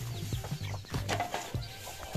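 A chicken clucking at close range, several short clucks and scratchy movements spread over a couple of seconds, with no talking.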